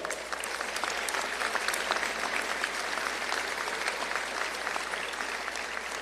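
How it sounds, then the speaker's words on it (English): A large audience at a high school graduation applauds steadily, a dense patter of clapping hands that holds at an even level throughout. "Please stand to be recognized and give a round of applause."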